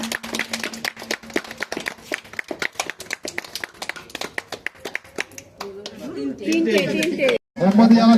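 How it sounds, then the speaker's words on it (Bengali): A group at an outdoor picnic claps in a quick, regular rhythm for several seconds, close and crisp, before the clapping gives way to people talking and cheering. "সবাই হাততালি দিয়ে উৎসাহিত করুন"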